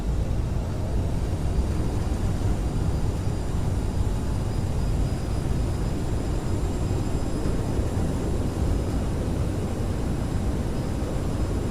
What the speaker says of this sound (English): Landed on one wheel, reverse coming out.